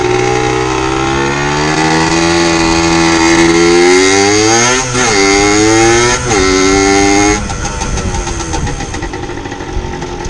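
A motorcycle with freshly cleaned brakes runs loud and close as it is ridden around, its engine droning steadily and rising and falling in pitch with a few revs before settling lower.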